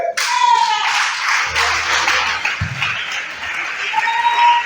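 A church congregation claps together to acclaim the Lord, a broad steady wash of hands. A voice carries over it and a few low thumps sound partway through.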